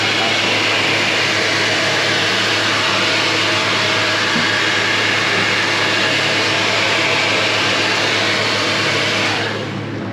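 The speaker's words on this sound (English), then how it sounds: "He uses a blow dryer along with the alcohol and it feels very cool and refreshing." A loud, steady blow dryer roars up close in a barbershop in Venezuela without a break, then cuts off near the end.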